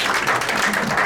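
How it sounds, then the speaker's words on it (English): Brief burst of audience applause at a United Nations side event, steady dense clapping from a crowd heard fairly close for about a second. "Let's give North America a round of applause."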